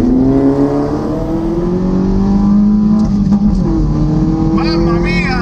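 A car accelerating hard in a drag race between an Audi RS3 and an electric Jaguar I-Pace, engine note climbing steadily in pitch, dropping at a gear change, then rising again, loud and close.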